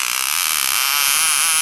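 A toad gives a strange, continuous buzzing trill that pulses rapidly and stays loud and close throughout.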